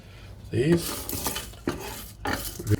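Whole spices being dry roasted in a pan for chicken curry, with a few scraping stirs and clinks of a utensil against the metal pan, fairly quiet and close.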